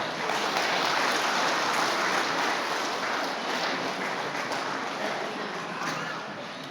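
A large audience claps loudly and steadily at a trade union federation gathering in Pasighat, Arunachal Pradesh. The dense applause holds strong for several seconds, then eases slightly toward the end.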